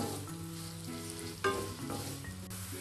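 Onions sautéing in a pan for a simple onion rice, giving a steady, close sizzle with a brief stirring clatter partway through, no voices.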